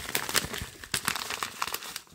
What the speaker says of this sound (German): Dann gucken wir mal in den nächsten Umschlag rein.